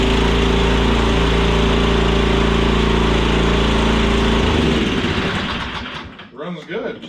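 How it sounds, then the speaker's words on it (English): A small snow blower engine runs at a steady loud idle, then cuts out and sputters to a stop, followed by quieter rustling and handling noises. "Runs good. Too bad it's just a small snowblower."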